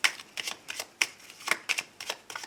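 Oracle cards shuffled by hand for an angel card reading: a quick series of rhythmic riffling flutters and soft slaps, close and clear, with no talk.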